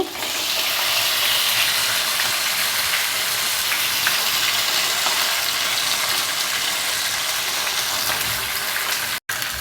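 Pomfret fish frying in hot oil in a pan, making a loud, dense, continuous sizzle close up that fills the whole stretch with a few faint clicks, cutting out abruptly near the end; no talking.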